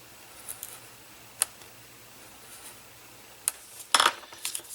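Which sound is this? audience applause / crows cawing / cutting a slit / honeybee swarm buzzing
cutting a slit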